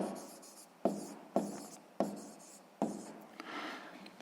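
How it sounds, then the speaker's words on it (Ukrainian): Handwriting during a sixth-grade maths exercise, four or five quick strokes of a pen on paper, each starting with a sharp tap and fading into a soft scratch, close and quiet with no talking. "Пишемо тобто."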